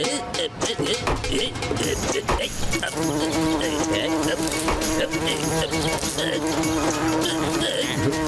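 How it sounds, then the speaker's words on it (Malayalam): Flies buzz in a Motu Patlu cartoon: a persistent, loud whining drone, wavering in pitch, runs throughout with cartoon sound effects mixed in. "രാവിലെ ഈച്ച ആട്ടിക്കൊണ്ടിരിക്കുവാണല്ലോ"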